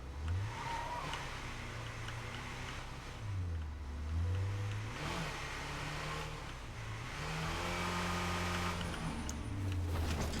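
Several car engines rev and rise through gear changes in State of Decay 2, a continuous layered engine drone with repeated climbing and falling pitch sweeps, moderately loud with no talking.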